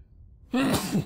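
A single close, loud sneeze: a short voiced intake swelling into a sharp, breathy burst, after a moment of near silence.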